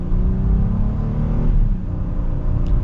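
A 2022 Honda Pilot Black Edition accelerating, heard from inside the cabin as a steady, loud low engine rumble and road drone that swells slightly mid-run, with no talking.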